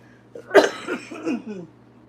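Close, sharp cough bursts from one person in a home kitchen, a hard initial hack followed by a few rougher, throaty follow-ups that trail off into quiet.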